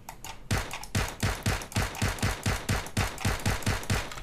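Rapid automatic gunfire rattles from a PUBG-style mobile shooter, Glorious Mission, with steady evenly spaced shots, loud and close, running without pause and no voices.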